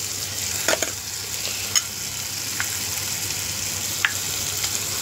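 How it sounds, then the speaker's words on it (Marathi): Green peas stirred into sizzling masala in a pan for a prawn and pea curry: a steady, close fry hiss with a few sharp scraping and clinking stirs, no talking. "तो मटार टाकायचा आहे।"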